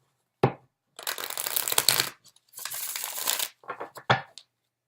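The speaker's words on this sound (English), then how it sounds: "Let's do one or two more shuffles." Tarot cards are shuffled in several quick bursts of riffling and snapping, close up, with short pauses between, ending in a few sharp taps.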